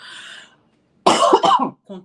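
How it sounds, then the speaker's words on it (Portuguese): A single harsh, chesty cough bursts out close to the mic, followed by a brief low murmur. "Desculpa a tosse"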